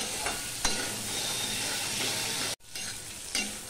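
Pumpkin and potato chunks stir-fried with turmeric in a pan, a steady close sizzle broken by a few scraping strokes of a spatula and one brief dropout.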